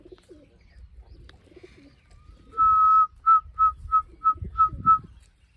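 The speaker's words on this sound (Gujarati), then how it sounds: "ઘણા બધા કબૂતર આવી ગયા છે" Pigeons flock in and coo nearby: a sustained whistle-like tone followed by six short, evenly spaced coos, clear and fairly loud over low rustling background noise.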